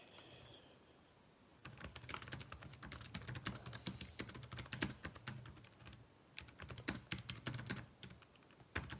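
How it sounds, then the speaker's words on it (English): Rapid, irregular clicking of keys on a computer keyboard, close and fairly quiet, coming in quick bursts with brief pauses and no talking. "Sorry, just typing something."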